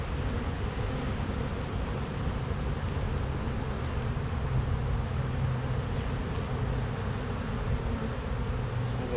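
A steady, dense hum of honeybees rises from an opened hive whose comb is being shifted, the buzzing close and unbroken throughout with faint higher flits of individual bees passing.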